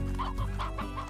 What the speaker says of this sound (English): Okay, need many chickens.